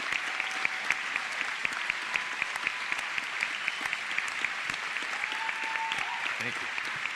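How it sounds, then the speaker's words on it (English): Audience applause for veterans at a school recognition night, honored by American Legion Post 7 Legion Riders: dense, steady clapping from a crowd sustained throughout, with scattered cheers and voices mixed in. "let's give these guys a round of applause"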